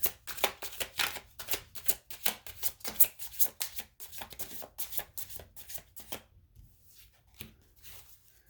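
Close, crisp tarot card shuffling in quick rhythmic riffles for several seconds, then trailing off into a few softer taps.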